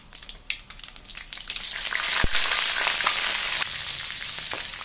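Mustard seeds, fenugreek and green chillies crackle and spit in hot oil for a fish curry, a loud, dense sizzle that swells and holds, with scattered popping bursts and no one speaking.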